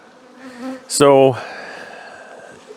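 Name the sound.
honey bees buzzing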